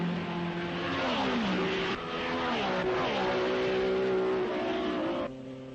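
A 1961 Porsche Formula 1 race car, Jo Bonnier's, racing at the Spa Belgian Grand Prix, its loud engine note rising and falling in pitch as it passes and then cutting away abruptly near the end.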